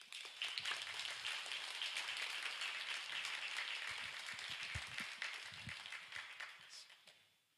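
A church congregation at Sunday worship claps steadily for about seven seconds to welcome the preacher, a broad, moderately loud patter that fades out at the end.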